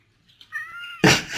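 A very fluffy cat gives a soft rising meow, followed by a sudden louder, harsher caterwaul-like cry, close and alone.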